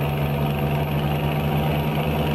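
A Scania R480 truck engine idles in Euro Truck Simulator 2, a loud, steady low rumble with a constant hum and no change in pitch or rhythm throughout.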